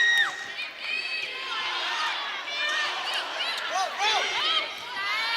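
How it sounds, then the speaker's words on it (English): A packed Cal Poly home crowd at an NCAA women's volleyball match against BYU cheers loudly at set point, with sustained roaring, high shrill whoops and shrieks, and a commentator talking over the noise. "We see the Cal Poly crowd rising to their feet, hoping for their team to get this set point"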